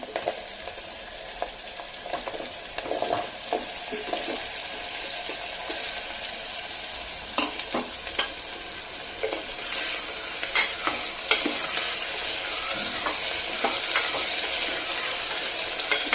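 Potatoes frying in oil in a pan for an eggplant and potato curry, giving a steady close sizzle with scattered clicks and scrapes of stirring throughout.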